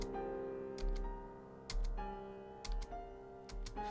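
A computer keyboard's spacebar clicks in sparse pairs and clusters while playing the piano in Detroit: Become Human, sharp close taps over soft held piano notes and no voices.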